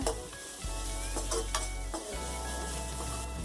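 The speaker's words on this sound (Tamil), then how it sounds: "கொஞ்சமா மஞ்சத்தூள் சேர்த்துட்டு அதையும் சேர்த்து கிண்டி விட்டுக்கோங்க" Leftover idli upma sizzles steadily in a pan as turmeric is stirred in, a utensil scraping and stirring through it, with a few clinks against the cookware.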